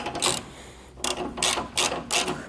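A ratchet wrench loosens bumper bolts on a 2018 Chevrolet Silverado, giving about five short, close bursts of rapid clicking separated by brief pauses.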